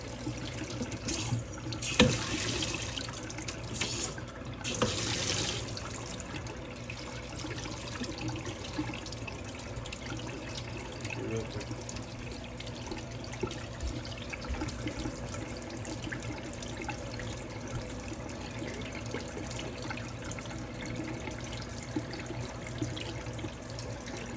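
Aquarium water running steadily down a drain during tank cleaning, a continuous splashing trickle with a brief louder gush near the start and a constant hum underneath.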